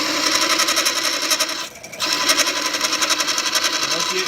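Drill boring a hole into a small metal hammer head, a loud continuous buzzing whine with rapid pulsing, briefly dropping out midway before resuming, and speech sounding over it.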